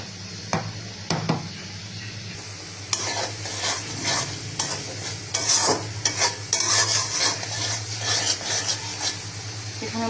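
Spices fry in a pan for a vegetarian chhana and vegetable curry, a soft sizzle broken by repeated scraping stirs of a spoon against the metal, close and clear.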